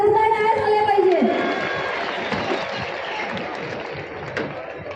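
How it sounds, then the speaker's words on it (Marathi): An audience at a youth program in Maharashtra gives sustained applause and crowd noise, a dense wash of many clapping hands that fades slightly, with a voice heard briefly at the start. "एका जोरदार टाळ्या झाल्या पाहिजेत।"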